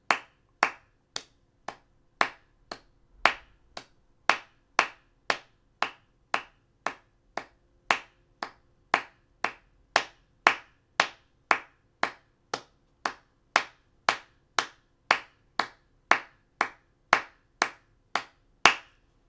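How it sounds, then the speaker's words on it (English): Hands clap an even eighth-note pulse in a music lesson, about thirty crisp, evenly spaced claps, close and alone with no voices over them. "I'm clapping the 8th note pulse."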